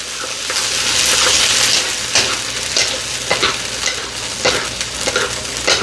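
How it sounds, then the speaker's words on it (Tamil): Steady sizzling of onions frying in a pan, with occasional scrapes and stirs of a spatula cutting through the hiss. "சூப்பராக வதங்கட்டும்"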